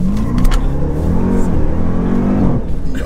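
A Jeep Trackhawk with 755 horsepower accelerates hard, its engine revving loudly from inside the car with a rising roar for a few seconds, with faint voices underneath.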